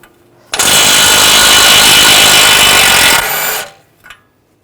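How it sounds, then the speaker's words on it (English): A power tool spins a 24mm socket to remove the nut from a tie rod end on a 2009-2010 BMW 535 xDrive, one loud continuous burst of about three seconds that cuts off, then a brief clink. "Using a 24mm socket, take the nut off on the tie rod end."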